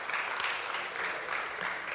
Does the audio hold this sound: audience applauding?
yes